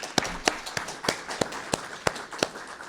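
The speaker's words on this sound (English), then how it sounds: "So another round of applause for our candidates." Sparse, spaced claps from a small audience at a school board candidates' meet and greet in Hamilton Township, Mercer County, roughly eight distinct sharp hand claps spread over a few seconds in a quiet room.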